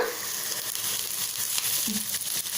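Onion, curry leaves, garlic and cumin frying in a tablespoon of oil for cabbage bassaru, a steady close crackling sizzle that holds even throughout.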